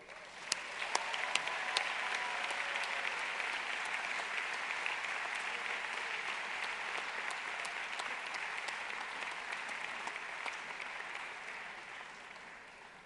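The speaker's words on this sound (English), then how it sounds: "A round of applause, please," A large conference audience of about 550 people claps in sustained, even applause that fills the hall and slowly tapers off, with no voices over it.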